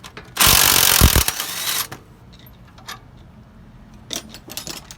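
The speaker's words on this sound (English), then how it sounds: "So let's take out the top bolt with the 14 for the shoehorn." A 14 mm wrench loosens and removes the top shoehorn bolt on an Acura Integra during a K20 swap, a loud burst of ratcheting and metal clatter for about a second and a half, followed by fainter clicks and taps.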